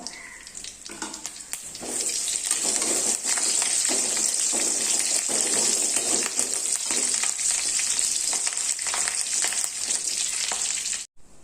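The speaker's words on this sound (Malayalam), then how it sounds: "വറുത്തെടുക്കാം മുളക് ഒന്ന് വറ വറക്കാ പകുതിയൊക്കെ ആകുമ്പോഴേക്കും നമുക്ക് ഇതിലേക്ക് കുറച്ച് കറിവേപ്പില കൂടി ഇട്ട് കൊടുക്കാം" Dried red chillies and curry leaves fry in hot oil in a pan, giving a loud, steady, close sizzle that holds for about ten seconds and then cuts off abruptly.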